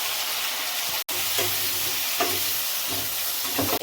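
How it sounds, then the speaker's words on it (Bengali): Cut potatoes fry in hot oil with whole cumin seeds, giving a continuous close, bright sizzle with a few stirring scrapes and one sharp momentary break. "গোটা জিরে, কেটে ধুয়ে রাখা আলুগুলো ভাজতে দেবো।"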